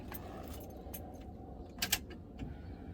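A set of car keys jangles up close in the cabin of a 1972 Chevrolet Nova while a Dakota Digital dashboard is installed, a short bright metallic rattle near the end of an otherwise quiet stretch.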